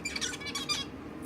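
Pet finches chirp and tweet in quick, overlapping bursts, a short bright flurry of small-bird calls at close range with no voices over it.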